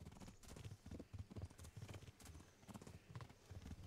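In the medieval game Kingdom Come: Deliverance a horse gallops with quick rhythmic hoofbeats, close and steady, with a brief neigh mixed in.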